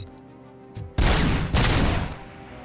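Gunfire in the video game Robocop: Rogue City, a short faint tap then two loud, heavy blasts in quick succession, the second trailing off into a rumbling decay.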